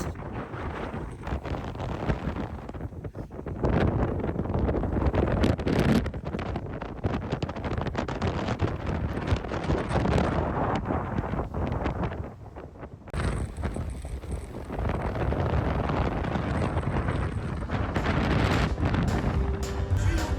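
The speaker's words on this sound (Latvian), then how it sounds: "Ak, tu vējš kāds vējš." Strong wind buffets the microphone outdoors, a steady rough roar with surging gusts that dips briefly partway through, then picks up again at full strength.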